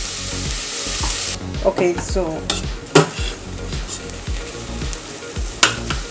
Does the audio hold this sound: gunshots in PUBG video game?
no